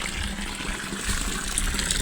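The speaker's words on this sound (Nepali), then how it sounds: "कस्तो राम्रो पानी आउँदो रहेछ यहाँ नि" Water runs steadily from a tap at an outdoor spot where hands and feet are being washed, a continuous close gushing splash with no pauses.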